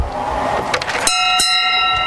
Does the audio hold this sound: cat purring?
no